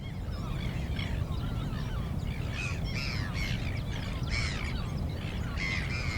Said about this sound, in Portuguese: A cada ano, milhares de pássaros chegam para banquetear nos campos da região.